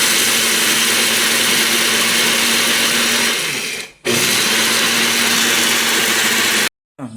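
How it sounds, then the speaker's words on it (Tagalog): A blender grinds dry rice grains with a loud, steady whirring roar, cuts out briefly, restarts, then stops near the end. "Bine-blend tayo dito."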